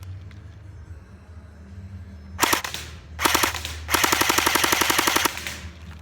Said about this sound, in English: I'm going to go ahead and I'm going to shoot at the target